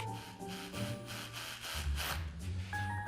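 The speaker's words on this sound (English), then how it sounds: "Let's hope Matt's larger power tool does the trick" A power tool grinds and rasps steadily through a ceiling, loud and close, with a continuous buzzing drone and no voices.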